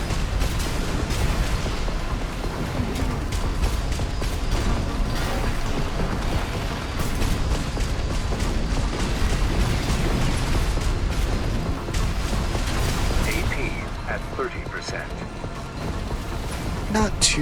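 Curtis weapon fire and explosions in the video game Armored Core 6, a dense continuous barrage of booms, bursts and mechanical clatter, loud throughout with no clear pauses.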